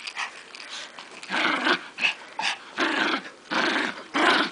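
A dog named Sophie growls in repeated gravelly bursts during a tug game with a toy, snarling close and fairly loud between short pauses, with an occasional higher whine.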